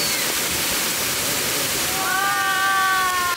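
Cold spring water pours down a clear creek at the Beipu cold spring on Daping Creek in Hsinchu, making a loud, constant rushing hiss throughout. A tonal voice-like sound rises over it in the last second or so.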